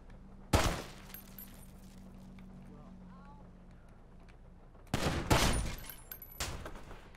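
Gunfire erupts in a GTA roleplay shootout, a loud burst of shots, then a quieter lull, then another cluster of rapid cracks.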